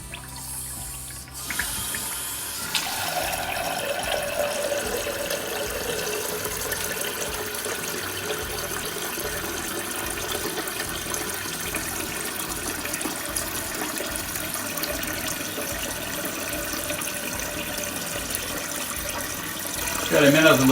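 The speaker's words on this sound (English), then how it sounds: "Let's get that water turned back on." Water rushes steadily into a toilet tank after the supply valve is reopened during a flapper repair, a continuous hissing, filling flow close by that holds evenly throughout, with faint talk in the background.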